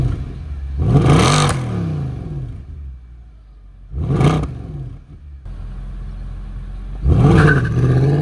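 A Mercedes-Benz E63 AMG engine revs hard in three separate bursts, each surge climbing in pitch and then falling away, with a low steady rumble between them.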